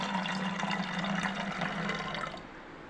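Homemade rosemary water is poured into a spray bottle as a steady, gentle trickling stream that tapers off near the end.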